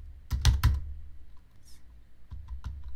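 Someone types on a computer keyboard, tapping a quick cluster of three keystrokes and then a few sparser clicks, close and clear in a quiet room.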